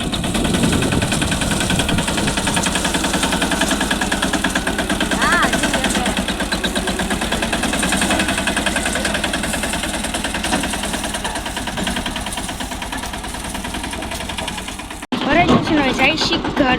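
A loaded tractor's diesel engine runs loud and close with a steady chugging throb for most of the stretch, then a sharp jolt and rattle near the end as the load shifts.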